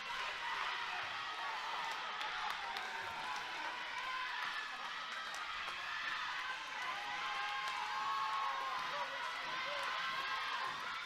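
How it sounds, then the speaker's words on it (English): A roaring crowd fills a hall during a wrestling cage match, a constant wash of voices and cheers with some whoops and clapping, while a commentator talks over it. "Listen to this crowd."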